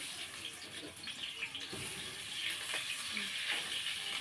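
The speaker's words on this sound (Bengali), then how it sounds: "গরম হয়ে গেছে, দিয়ে দিন পেঁয়াজ কুচি" Chopped onion fries in hot oil in a pan, producing a soft, continuous sizzle at fairly low level with a few faint scrapes and clicks.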